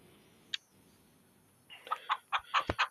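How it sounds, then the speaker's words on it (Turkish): A Denizli rooster in Farming Simulator 23 calls in a quick series of short, sharp bursts after a single brief click, with near silence around it. "Horozumuz da öter denizli horozumuz"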